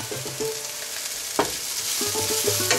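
Onions frying in oil in a pan for an Odia potato-and-poppy-seed curry: a steady close sizzle with faint spoon scrapes and a brief louder crackle partway through.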